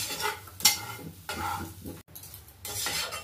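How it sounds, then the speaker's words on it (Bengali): Semolina stirred and dry-fried in a pan over a low flame, with scraping spatula strokes in bursts, light clatter of utensil on metal and a soft sizzle, without speech. "খালি 5 মিনিটের মতো একে নাড়তে থাকতে হবে, ভাজতে হবে।"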